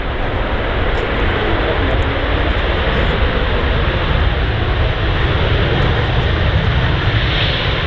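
A Boeing Dreamliner roars loudly down Manchester Airport's runway 23R on landing, thrust reversers deployed, a dense, sustained broadband engine rush that holds steady throughout.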